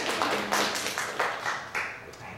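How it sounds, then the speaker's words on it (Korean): Clapping from a church congregation during a sermon, scattered, uneven claps rising and fading in a brief burst, moderately distant and fairly soft. "이런 때는 박수도 치는 거라고 그러고요."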